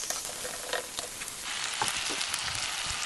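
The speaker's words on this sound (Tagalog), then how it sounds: "Gisa na siya ng sibuyas, bawang." Onion and garlic sautéing in a pan for palabok, a steady close sizzle with scattered stirring scrapes and pops.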